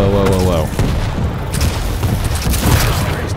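Loud, close gunfire and explosive booms from the video game Quake Champions, with dense overlapping shots and impacts throughout, game announcer-style voices and player talk mixed in.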